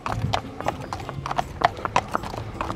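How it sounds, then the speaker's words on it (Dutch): A horse's hooves clip-clop in a quick, steady galloping rhythm, fairly close, with faint voices in the background. "Ja, het gaat in galop."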